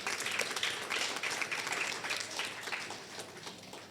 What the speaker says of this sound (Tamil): இன்று இந்த நிகழ்ச்சியில் கலந்து கொண்ட குழந்தை செல்வங்கள் அனைவருக்கும் பலத்த கைத்தட்டல்களை